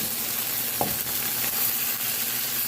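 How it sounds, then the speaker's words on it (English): Carrots and string beans sizzle steadily in a frying pan as they are stirred, with a soft scrape of the utensil near the start over a constant close fry hiss. "I will give this a stir"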